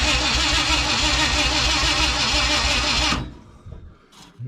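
A 1969 or 1971 Ford F100 truck engine cranking over steadily on the starter after sitting abandoned, a loud continuous rhythmic churning that stops abruptly, followed by faint clicks and rustling.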